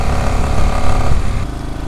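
Close, loud engine hum of a motorcycle cruising on a São Paulo road, steady with wind rush, easing slightly toward the end.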